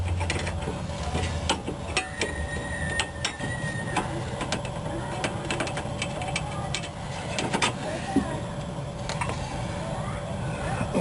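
A ratchet wrench works a bolt on a Toyota Camry steering rack, giving rapid clicking and metallic ratcheting bursts over a steady background hum, close and moderately loud.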